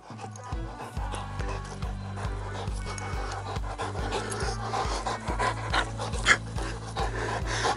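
A Belgian Malinois pants steadily and close, quick rhythmic breaths running through the whole stretch with light rubbing and handling noises mixed in.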